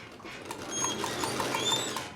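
A sewing machine runs a straight seam on fabric with a steady, fast mechanical whir and light rhythmic clatter, close and continuous for a couple of seconds.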